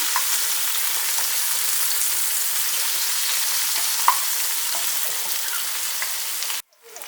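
Onions sauté with tomato paste, thyme and cumin in a pan, an even dense sizzle running close and loud throughout, with faint stirring ticks, before it cuts off abruptly at the very end.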